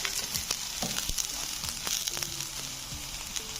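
Chopped garlic sizzles and crackles in hot oil in a frying pan, a steady close frying hiss with sharp pops and faint stirring scrapes, no talking.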